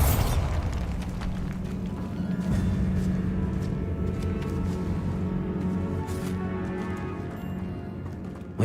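A Bombarda blast spell fired in Hogwarts Legacy, a dense booming burst followed by a sustained rumbling roar that fades over several seconds amid game sounds and music.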